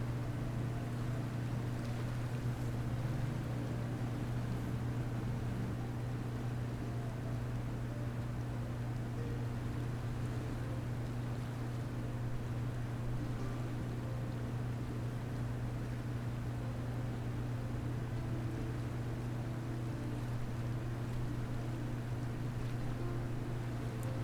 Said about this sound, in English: you hear the sound of water being added to the gentle movement of the trees